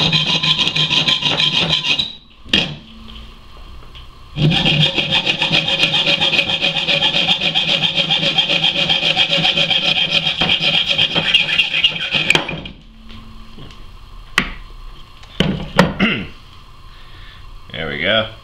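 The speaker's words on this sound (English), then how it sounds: "I think I'm going to use a hacksaw." A hacksaw cuts through a homemade fishing lure in long, rasping back-and-forth strokes, close and loud, stopping briefly before a long steady run and then ending in a few scattered scrapes and knocks.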